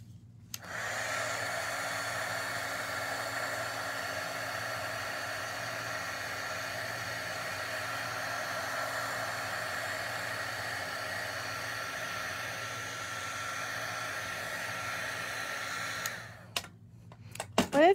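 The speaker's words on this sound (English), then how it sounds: "I have a super, super hot heat gun, so it doesn't take long" A very hot heat gun blows steadily for embossing powder in a craft session, a continuous whirring fan rush with a low motor hum, switching on near the start and cutting off at the end, close and without speech.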